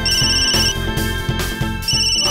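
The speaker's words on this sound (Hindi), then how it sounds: "ये बिल्लू जी क्यों फोन कर रहे हैं, वो भी गलत टाइम पे।" A mobile phone ringtone for an incoming call plays loud and close, a bright electronic melody repeating in short regular phrases.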